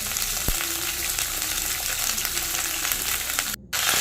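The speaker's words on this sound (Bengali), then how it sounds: "কিছুটা পরিমাণে ফুলকপি দিয়ে আমি একবার নেড়ে চেড়ে নিচ্ছি" Steady, loud sizzling of cauliflower frying in a kadai, with occasional scraping and clinking as it is stirred.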